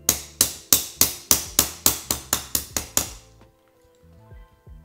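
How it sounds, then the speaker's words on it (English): About eleven light, evenly spaced metallic hammer taps on the retaining arms of an Airstream RV deadbolt, sharp and close, followed by a couple of faint clicks and rustles. "Just a couple little taps with the hammer"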